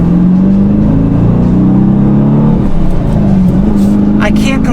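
A 2020 Dodge Challenger R/T with a six-speed manual gives a loud, close, deep exhaust drone that rises and falls in pitch, swelling like revving before tapering off near the end.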